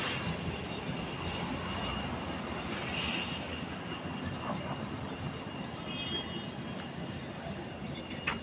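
An airliner sits on the apron at Amman Airport while cargo is loaded, its engines giving a steady, distant roaring hum with a faint whine on top, heard from outside the terminal.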